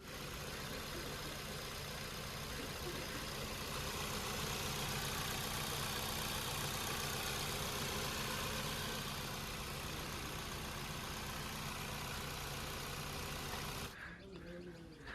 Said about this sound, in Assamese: ইঞ্জিন ষ্টাৰ্ট হৈ আছে এখনক একেবাৰে চাউণ্ড নাই একেবাৰে স্মুথ একদম সাইলেন্ট